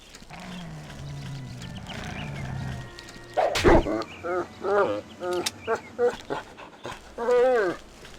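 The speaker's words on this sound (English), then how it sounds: "So a wolf over there, so I've got to take care of Wolfie" Wolf in the Ultima 9 video game growls and snarls in a series of short, loud, rhythmic bursts after a quieter stretch of low game ambience.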